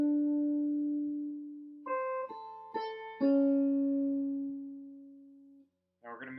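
A guitar plays the second phrase of a jazz standard: a handful of clean, sustained single notes, one long low tone, quick plucked notes, then another long ringing note, close and alone without talk.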